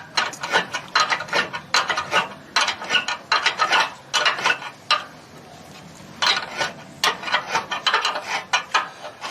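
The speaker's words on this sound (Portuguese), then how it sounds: "É exatamente acochando o parafuso, né?" Screws of a solar panel mounting on a rooftop are tightened with a ratcheting tool, giving rapid bursts of close metallic clicks in irregular runs separated by brief pauses, with no talk.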